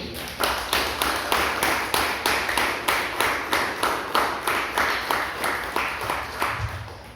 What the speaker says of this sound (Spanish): Déselo fuerte el aplauso al Señor